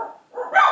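A pair of dogs barking nearby during a spring break in Bath, heard as a short burst of barks that dips briefly and then returns louder, with no talking.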